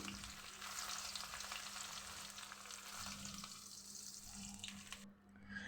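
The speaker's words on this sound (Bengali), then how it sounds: "তারপরে আমি পরিমাণ মতো পেঁয়াজ কুচি দিয়ে দিচ্ছি" Chopped onion frying in mustard oil with cumin: a steady, dense, close sizzle that continues throughout and cuts off abruptly near the end.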